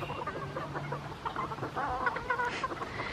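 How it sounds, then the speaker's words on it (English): A flock of chickens clucks busily at a farm animal sanctuary, with overlapping close-up clucks and soft calls scattered over a low background hum. "See, this is how the chickens are supposed to be."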